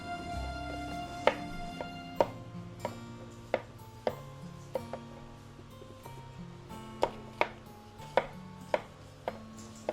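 Garlic cloves are chopped on a board for a ratatouille sauce, with sharp knife strikes arriving in an uneven rhythm, close and distinct over a steady bed of background music.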